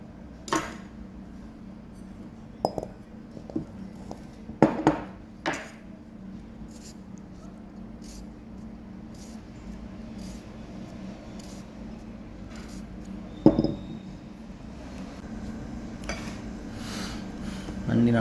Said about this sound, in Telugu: ఇలా కాయలన్నిటికి నాట్లు పెట్టుకోవాలి.